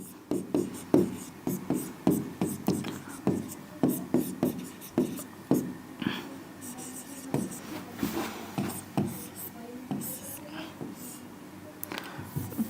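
Chemical formulas are written on a board in a steady series of short, scratchy strokes and taps, close by, while a person keeps talking over them.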